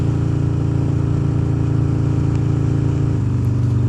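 A custom Harley-Davidson Dyna Street Bob engine thrums loud and steady under way, a deep continuous rumble with a slight shift in tone near the end.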